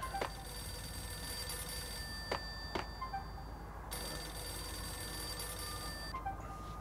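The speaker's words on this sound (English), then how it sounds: "payphone's ringing" A payphone rings in the Max Payne video game, its bell tone sounding in repeated bursts at moderate volume over a steady ambient hum, with no voices over it.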